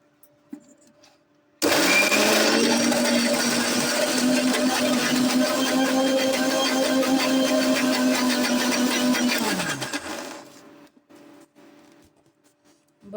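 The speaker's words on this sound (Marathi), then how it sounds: "त्याच्यामध्ये पूर्ण मिक्स करून घ्यायचं आणि मिक्सरमधून काढून घेऊ" A mixer grinder whirs loudly for about eight seconds, grinding a roasted red chilli chutney, then winds down and stops, with quiet handling sounds before and after.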